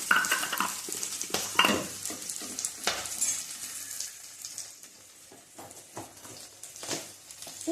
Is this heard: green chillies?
yes